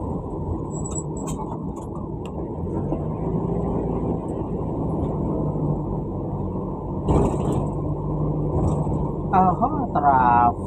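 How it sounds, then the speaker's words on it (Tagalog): Heavy road traffic on a Manila street near the LRT and MRT lines: a dense, steady rumble of car and bus engines, with a brief air-brake hiss and a horn near the end, loud and close throughout. "Traffic."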